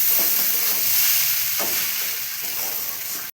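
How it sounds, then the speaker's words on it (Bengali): Dalia khichuri stir-fried in a pan over low flame, a steady close hiss of frying with scraping stir strokes throughout, no voices. "এই যে তলায় ধরে যাচ্ছে একটু লো ফ্লেম করে এটা এটা কষে নিতে হবে"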